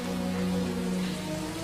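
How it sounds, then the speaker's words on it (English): Rain falling in a film scene from The Crow, a steady hiss of drops mixed with a low sustained musical drone underneath, brief and even in loudness with no speech. "I wish the rain would stop just once. It can't rain all the time."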